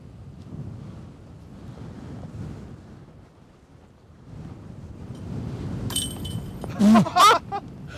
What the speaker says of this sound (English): So that's how much wind there is.